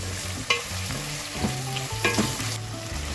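Garlic, ginger and onion sizzle and crackle steadily in a hot pan, with occasional scraping of a spoon stirring through them.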